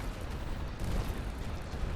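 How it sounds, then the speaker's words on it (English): Upgraded bulwark shells explode in the real-time strategy game Calyx, a dense continuous rumble of overlapping low booms and crackling bursts at steady loudness, with no speech. "These are my upgraded shells for my bulwarks, and they are very effective at clearing out Calyx."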